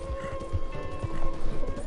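Horse hooves clip-clopping at a steady trot, close and fairly loud, with a soft tonal hum running underneath.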